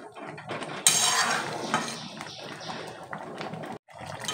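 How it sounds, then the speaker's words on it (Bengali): Boiling tomatoes for homemade tomato sauce stirred in a pot, with a spoon scraping and clinking against the metal over a bubbling simmer, close and fairly loud, ending in a brief gap. "তো একটু নেড়ে দিলাম যাতে তলায় না লেগে যায়।"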